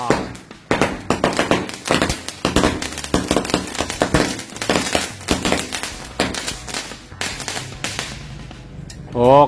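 A mini cake of mercon firecrackers pops off in a rapid, dense string of loud cracks close by, bursting almost nonstop before tapering at the end, with a short whistling rise in the last moment.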